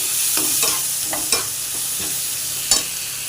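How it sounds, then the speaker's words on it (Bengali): Spice paste frying in oil for prawn kofta, a constant hot sizzle broken by several distinct stirring scrapes with a spatula, close and moderately loud, no voices. "সেই মশলাটাও দিয়ে দিচ্ছি একটু কষে নিচ্ছি"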